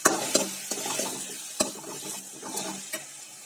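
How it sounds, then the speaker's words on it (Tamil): Mango pachadi being sautéed in a pan, with a soft sizzle under repeated scraping stirs and sharp taps of a spoon against the pan. "ஒரு 5 நிமிஷத்துக்கு நல்லா வதக்கிட்டு நம்ம கொஞ்சோண்டு உப்பு சேர்த்துக்கலாம்."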